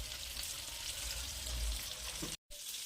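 Sea fish frying in a pan at home, a steady close sizzle and crackle of hot oil that runs unbroken before cutting off briefly near the end.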